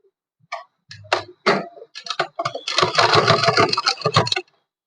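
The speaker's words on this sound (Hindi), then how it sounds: "अब हम इसके ऊपर भी सिलाई लगा देंगे" A sewing machine stitches along a kurti collar in close, short bursts, starting with a few separate clicks and then running into a dense, continuous mechanical whir that stops abruptly, with no voices over it.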